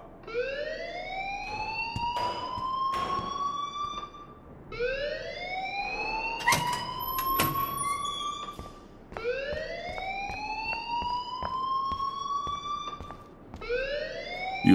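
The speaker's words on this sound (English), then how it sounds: "please turn off that alarm since that's your job" An electronic alarm in the video game Life is Strange wails in repeated rising sweeps about every four seconds, siren-like and steady, with a few brief clicks and knocks between cycles.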